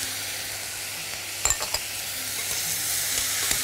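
Soy sauce goes into a hot pan of sizzling grated carrot and zucchini for spring rolls, making a steady hiss that flares with a few sharp crackling bursts as it hits, and a soft stir follows.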